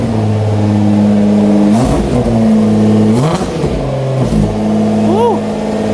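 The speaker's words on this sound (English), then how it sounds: "Sounds like it has an exhaust leak though." A 2010 Nissan GTR engine with an exhaust leak idles with a deep rumble, then revs hard several times close by, its note rising and falling with a rough, raspy edge.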